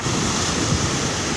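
A strong wind roars over a beach as big ocean waves roll in, giving a dense, loud, unbroken rush of surf and wind buffeting the microphone across the whole brief moment.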